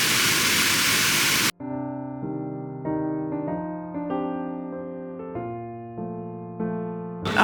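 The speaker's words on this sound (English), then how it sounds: "Another epic waterfall." A waterfall near Kobe on a rainy day, a loud broadband rush of falling water heard alone for about a second and a half before it cuts away to sustained musical tones.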